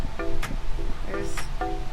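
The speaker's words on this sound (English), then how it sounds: "it's so windy out" Strong wind buffets the microphone outdoors in constant low rumbling gusts, with faint tonal hums and brief rustles over the top.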